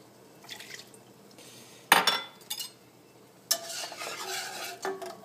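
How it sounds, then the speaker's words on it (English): Milk poured into a pot on the stove for butternut squash mac and cheese, heard as a sudden splash and stirring swish, then a longer sizzling, bubbling pour with faint utensil clinks, close by. "And I'll add the remaining milk."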